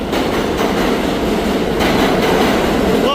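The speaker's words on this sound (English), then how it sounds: "Watch his E-train leave in the meantime." A New York City subway E train pulls out of a station, a loud, steady rumble of rail cars and wheels close by, with faint squeals near the end.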